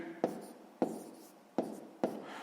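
A pen writes by hand on paper during a sixth-grade maths exercise, four quick scratchy strokes, each a sharp tap that fades, close and quiet.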